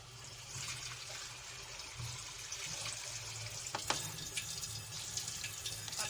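A cup of water poured into a pot of Sindhi biryani with meat in it, a steady close trickle and splash running alone for about six seconds over low kitchen hum.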